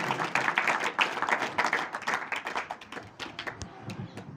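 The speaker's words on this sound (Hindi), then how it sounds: "तालियां बजाएं बहुत जोर से" A small audience at a school Class 10 farewell ceremony claps, fairly quiet and uneven with individual hand claps audible, tapering off over a few seconds.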